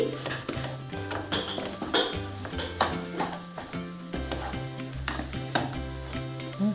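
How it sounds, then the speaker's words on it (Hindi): Sugar melting in a pan is stirred steadily, giving repeated scraping strokes of a spoon over a soft sizzle, with occasional clinks against the pan. The sound is close, with no talk. "जब तक कि ये शुगर इसमें पूरी तरह से मेल्ट हो जाए तब तक मैं इसे ऐसे ही चलाऊंगी।"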